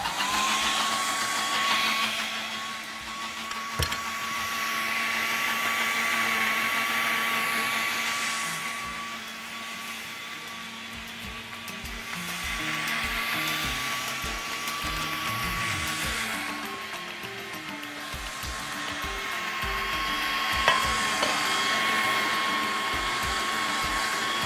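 Electric mixer beating eggs and vanilla for a custard cake, a continuous whirring motor hum with a steady high tone that swells and dips slightly as the beaters work, running throughout with faint clatter.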